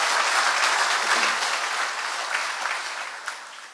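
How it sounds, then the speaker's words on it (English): Applause from a banquet audience honoring plant representatives at a safety excellence awards event, a dense even clatter of many hands that slowly tapers off. "Let's give our plant representatives another round of applause."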